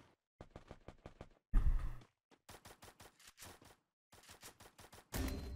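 Bursts of rapid gunfire in Free Fire Max, several short volleys separated by brief pauses, loud and close, with two heavier blasts standing out.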